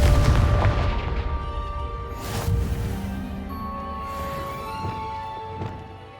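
A Confringo fire spell bursting in Hogwarts Legacy, a deep booming blast at the start followed by a second impact and a decaying rumble beneath faint game music tones.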